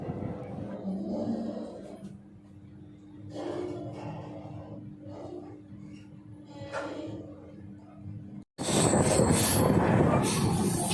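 Inside a moving passenger train bound for Jammu, a steady low rumble and hum of the carriage runs throughout with faint clatter. Near the end it breaks briefly into a much louder, rushing roar.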